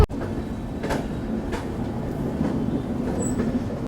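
Sealdah SF Express train running on rails near Gaya Junction in Bihar, India, a steady loud rumble with periodic rhythmic wheel clacks and a brief high squeal near the end, heard from on board.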